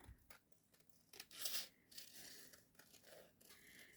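Scissors cutting around vellum paper, a few close, quiet snips and crisp crinkling rustles at an irregular pace, with no talking.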